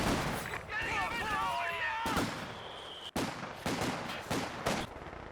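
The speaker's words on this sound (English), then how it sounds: "Mortar going to work on the munitions cache" Company of Heroes 2 battle with mortar fire on a munitions cache: repeated sharp gunfire and artillery blasts in quick bursts, with a voice talking over the first half and whistling shell sounds.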